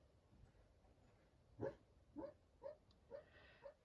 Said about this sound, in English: I'm not sure if you can hear my dog in the background,